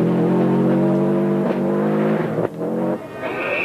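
A Subaru Legacy rally car races through a stage of the 1992 Rally Australia, its engine roaring loud and close with shifting harmonics, revs dipping briefly between gear changes before climbing again, no voices present.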